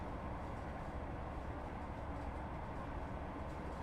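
An East Midlands Railway electric train on the Midland Mainline in Train Sim World 3 runs with a steady, continuous rumble and hum of wheels and motors, even and unbroken throughout, with no voices.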